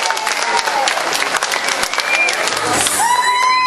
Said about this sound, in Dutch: En geeft u een geweldig applaus.